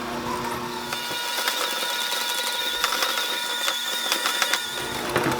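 An electric hand mixer whirs steadily as it creams softened butter and sugar for a pineapple upside-down cake, a continuous close mechanical drone with small clicking bursts from the beaters against the bowl, with no talking.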